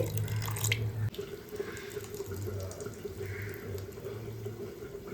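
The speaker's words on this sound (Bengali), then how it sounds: "এখানে দেখো ডালটাও ঢেলে দিলাম জল দিয়ে দিচ্ছি" Water poured onto soaked urad dal in a bowl, a splashing, trickling pour that breaks off briefly and resumes, with a low hum in the background.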